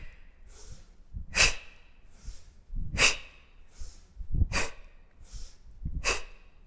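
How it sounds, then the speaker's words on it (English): Loud, forceful breaths come with kettlebell swings, five sharp rhythmic exhales about one and a half seconds apart, close and clear, with no talking. "Now you notice I'm doing some loud breathing"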